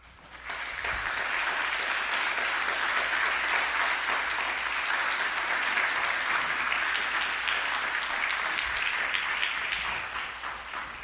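A church congregation at a Korean presbyterian service in New York breaks into vigorous applause, a full, even roar of many hands that rises quickly, holds steady, and tapers near the end.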